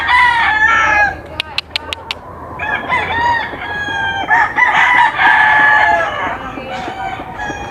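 Several roosters crow loudly and close by, their calls overlapping, with a few sharp clicks and clucking mixed in.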